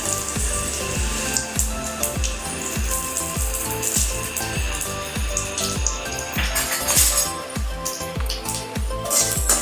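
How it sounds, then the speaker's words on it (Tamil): Curry leaves and broken red chillies splutter in hot oil as a tempering for mango rasam, a dense crackling sizzle with quick repeated pops and a few light metallic clinks, close and fairly loud. "நம்ம கொஞ்சம் கருவேப்பிலை போட்டுக்கலாம் ரெண்டு மிளகாய் கிள்ளி போட்டுக்கலாம்"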